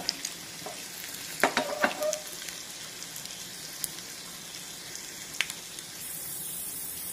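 Faint, steady sizzling of a tadka of ginger and red chilli in hot oil for chana dal, with a few brief crackles and pops early on and a scattered spit later.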